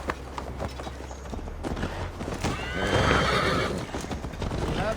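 Horse in Assassin's Creed Valhalla whinnying loudly up close while hooves clip-clop along at a steady pace, the neigh swelling in the middle over a low game ambience.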